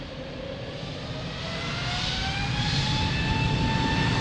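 An airliner takes off from runway 02 at Lisbon Airport, its jet engines building into a loud, rising roar with a climbing whine that swells steadily and stays close.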